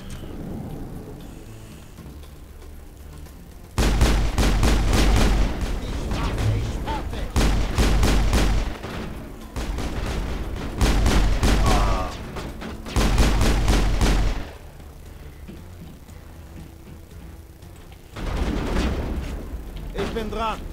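Enemy gunfire in the video game Mass Effect 1: loud, rapid bursts of shots in dense repeated volleys, separated by short lulls, with a voice talking over parts of the combat.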